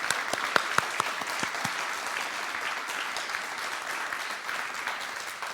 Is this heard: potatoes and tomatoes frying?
no